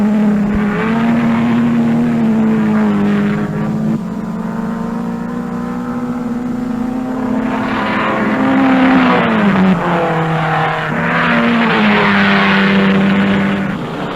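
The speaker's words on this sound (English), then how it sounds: "A Jaguar wearing the white and blue stripes that are American racing colors leads a pack of cars through the hairpin" Racing cars from the 1957 Sebring 12 Hours, a Jaguar among them, roar loudly through a hairpin in a steady, sustained engine drone that rises and falls in pitch as a pack of cars brakes and accelerates, no voices present.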